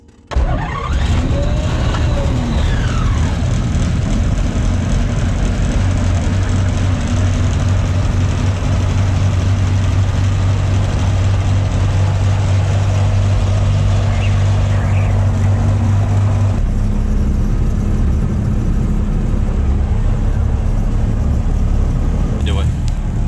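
A Jabiru 3300 aircraft engine fitted with a Rotec Aerosport LCH kit on a Zenith 601 starts and runs with a loud, steady drone close by, and a voice talks briefly over it.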